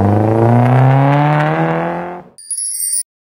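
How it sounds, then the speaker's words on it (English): A car engine accelerates with a loud, rising harmonic hum that fades out after a couple of seconds, followed by a brief bright chime. "Car."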